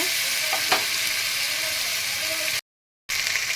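Asafoetida and garam masala tempering sizzles steadily in hot oil for a vegetarian potol dish, a loud continuous frying hiss with a few stirring clinks, broken by a short silent gap near the end.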